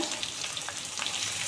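Potatoes fry in a pan, giving a steady crackling sizzle with small popping spatters throughout, moderately loud and with no voices.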